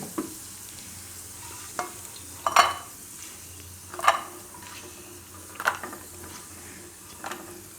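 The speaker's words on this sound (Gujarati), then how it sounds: "તો કાજુ આપણે આ રીતના થોડાક ગોલ્ડન કલર થાય એવા શેકવાના" Cashews roast in oil in a pan over a faint steady sizzle, with about five separate spoon scrapes and clinks against the pan spaced through the clip; quiet and close, with no talking.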